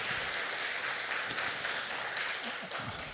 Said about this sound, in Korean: 우리 주 하나님께 영광의 박수를 다시 한번 올려드리도록 하겠습니다